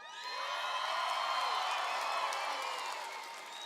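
A large convention crowd of FFA members in blue jackets at an awards session cheers, whoops and applauds, a broad sustained roar of clapping and shouts that swells and then slowly eases.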